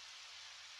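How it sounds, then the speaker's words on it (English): Steady, even hiss of rain in the video game Undertale, soft and continuous with no other sounds. "And now it's raining."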